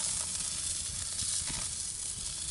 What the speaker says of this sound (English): Now that the leg quarters have somewhat seared